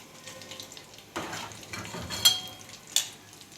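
Shrimp frying in hot oil, a steady close crackle with a few sharper pops and a brief metal clink, no talking.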